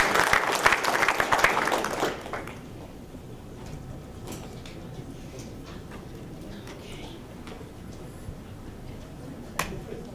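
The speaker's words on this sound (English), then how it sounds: "give yourselves a round of applause" A short burst of audience clapping at a school board meeting fades out after about two seconds, leaving a quiet room with scattered faint knocks and shuffles.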